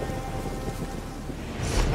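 Steady rain in The Witcher 3 video game hisses continuously, with a low rumble of thunder swelling near the end, loud and close, and no voices over it.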